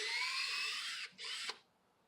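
A cordless drill bores a tap hole into a tree trunk, a close high whine that dips briefly, revs again and stops within about two seconds.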